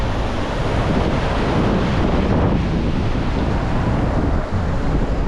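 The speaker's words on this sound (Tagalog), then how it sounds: "Pargadam, dito nasa dagat na naman kami, oh." Sea waves wash against the shore under strong wind, a loud, dense, unbroken roar of surf and gusting air buffeting the microphone throughout.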